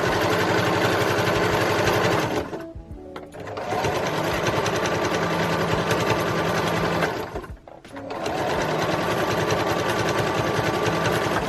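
A sewing machine hums loudly and continuously while stitching along a fabric belt, its motor whirring up close, broken by two brief pauses before it resumes at full speed.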